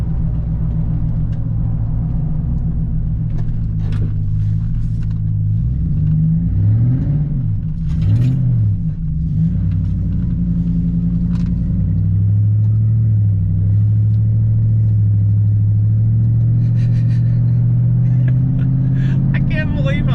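A 2000 Chevrolet Silverado V8 running after an injector replacement gives a steady low rumble with a few light revs, while people talk over it.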